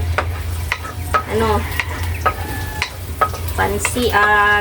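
Garlic sizzles in a pan for a quick pancit bihon snack with sardines, a loud continuous crackle close by, with a utensil scraping and stirring and a few brief tonal squeaks over the frying.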